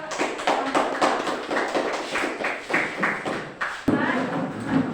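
A classroom of students applauds in uneven bursts, claps tapping quickly and fairly close, with a teacher's voice speaking over part of it.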